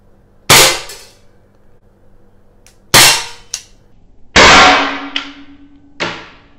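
A gold-finished Umarex Legends CO2 pellet revolver fires four sharp, loud cracks spaced a second or two apart, each with a short metallic ring and hiss trailing off, heard alone with no talking.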